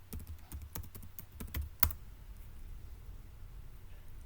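Typing on a computer keyboard: a quick, close run of crisp keystrokes with one sharper final tap, followed by near silence.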